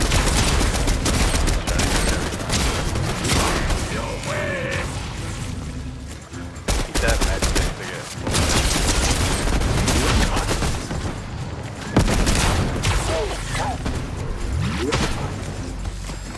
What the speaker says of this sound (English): Oh, I think there's somebody else shooting.